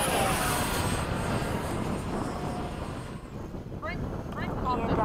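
An FMS 70mm F/A-18 model jet flies solo at sunset, its ducted-fan engine giving a continuous loud roar with wind buffeting the microphone. The sound dips slightly midway and then swells again as the jet passes.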